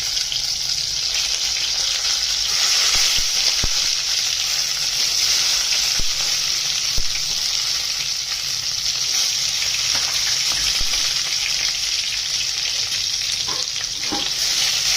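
Brinjal frying in hot oil with cumin and mustard seeds, a loud continuous sizzle close by with occasional stirring scrapes and small pops throughout.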